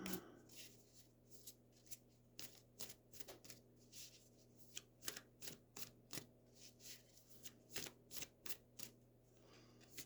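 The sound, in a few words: tarot cards being shuffled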